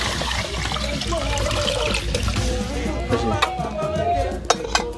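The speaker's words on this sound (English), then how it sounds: "so our water is now boiling" Water boiling and churning in a metal pot for cooking akple in Ghana, with a few sharp clinks of utensils near the end and a voice in the background.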